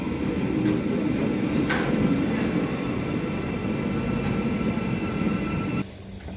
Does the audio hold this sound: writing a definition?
no